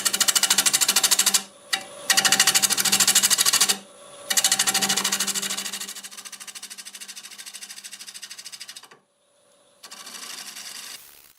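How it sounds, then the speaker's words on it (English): Bowl gouge cutting a wooden bowl on a lathe spinning at about 800 RPM outdoors, a loud continuous scraping whir broken by a few short pauses, then quieter steady cutting to the end. "So I'm going to use a 1/2 inch bowl gouge to do this."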